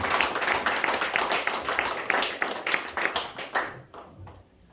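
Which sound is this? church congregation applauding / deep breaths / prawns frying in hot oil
church congregation applauding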